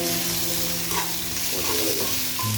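Ginger garlic paste sizzles in hot oil in a pan for a duck roast, a constant close frying hiss with faint stirring scrapes and a steady hum underneath.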